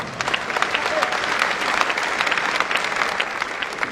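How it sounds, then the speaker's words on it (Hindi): An audience in Talkatora Stadium, New Delhi, applauds loudly at a speech, a dense, sustained wash of clapping that carries evenly from start to finish with some crowd noise mixed in. "तालियां चाहूंगा भारत माता के साथ"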